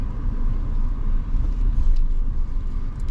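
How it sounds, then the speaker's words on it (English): Nissan Sentra with new front brake pads and rotors rolling slowly backward, a steady low engine rumble and faint road noise throughout, with no talking. "we're going to back up real nice and slow"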